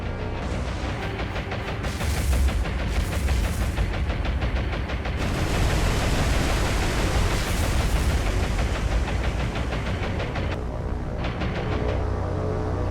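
Rapid anti-aircraft gunfire from a World War II naval battle in War on the Sea, a dense, continuous barrage of overlapping bursts and booms with steady low rumble throughout, loud and unbroken.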